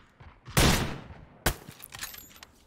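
Gunfire in the shooter game Ring of Elysium: two sharp, loud broadband blasts, the first a longer ragged burst and the second a single crack, with faint clatter trailing after.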